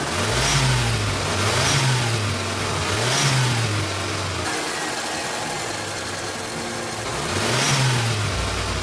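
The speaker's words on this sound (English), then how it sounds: "when you rev it a bit, you can see the RPM increases" An old car engine tuned with a custom ECU is revved three times in a row. It falls back to a steady idle and then rises once more in a fifth rev. The engine is loud and close, and no one speaks.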